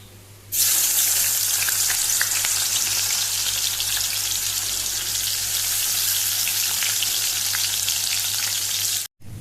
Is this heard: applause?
no